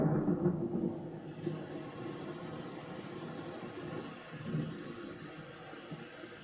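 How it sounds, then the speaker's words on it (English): Thunder effect from an ambient light and sound program: a low, continuous rolling rumble that stays moderately loud throughout, swelling slightly near the end with no speech over it. "I'm going to start a little bit of thunder and lightning."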